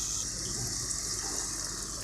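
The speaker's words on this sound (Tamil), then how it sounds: "லைட்டாக கொதிச்ச உடனே தேவையான அளவுக்கு தண்ணி ஊற்றிக்கோங்க." Water poured into simmering mutton gravy makes a steady, soft rushing splash that runs unbroken for about two seconds.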